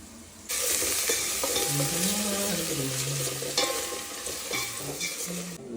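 Chicken liver and gizzard pieces being stirred together with chili paste, salt, turmeric and garam masala in a pan make a close, continuous wet sizzle with scraping stir strokes, starting abruptly after a brief quiet moment.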